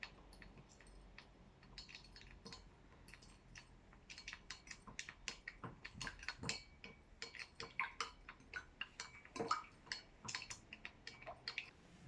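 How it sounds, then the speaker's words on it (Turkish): A utensil stirs an activated charcoal cleaning mixture in a small container, producing faint, irregular clinks and ticks against the sides that grow busier and a little louder as the stirring continues, with no talking. "Evet şimdi bunu 5 dakika boyunca karıştıracağız"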